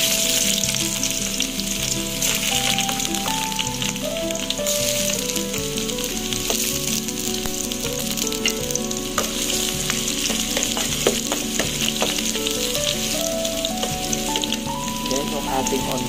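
Garlic frying and sizzling in a pan for a ginisang ladyfingers dish, a loud, steady crackling sizzle with occasional stirring scrapes, alone and close throughout.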